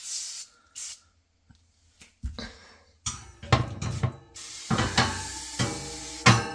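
Short bursts of Weiman oven cleaner aerosol spray hiss close up inside an oven, a few quick squirts followed by longer sprays, with faint clunks in between.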